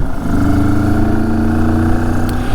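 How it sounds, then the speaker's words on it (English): A 2022 Moto Morini X-CAPE 649 motorcycle accelerates hard on an uneven road, its mid-pitched engine note loud and steady, building and holding continuously throughout. "I can just open the throttle and it will just take off in quite a pleasing manner"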